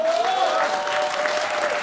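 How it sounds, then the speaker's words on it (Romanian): A crowd claps steadily in a dense, continuous burst of applause, with a voice or whistle-like tone briefly audible over it. "aplauze furtunoase"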